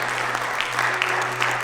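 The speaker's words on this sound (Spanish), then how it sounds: "¿Por qué no le da un aplauso al Señor?" A church congregation claps together during a Spanish-language worship service: steady, dense applause fills the room, moderately loud, over a low electrical hum.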